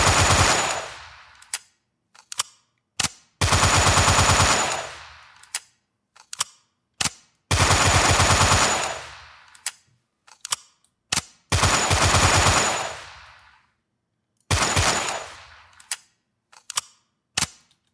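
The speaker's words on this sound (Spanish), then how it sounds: "Agacharnos y disparar igual." Gunfire from a Unity-made shooter game: several loud bursts of rapid automatic fire, each lasting a second or two, mixed with sharp single shots and clicks, separated by brief silences.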